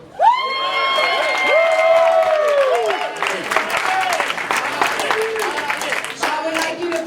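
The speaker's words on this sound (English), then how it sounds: "please give us a strong hand of applause" Audience applause and cheering for a community leadership award presentation, a dense, loud burst of clapping with voices shouting over it, settling into steadier clapping toward the end.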